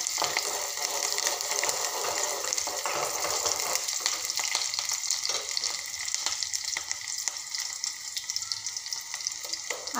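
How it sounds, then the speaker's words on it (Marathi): Onion frying gently in a pan gives a constant dense sizzle and crackle that runs evenly throughout, close and fairly loud, with no voices. "आपला कांदा हलकासा शिजत आलेला आहे"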